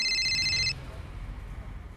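A phone ringtone chimes loudly for under a second as a repeated tonal pattern, then cuts off into quiet room tone.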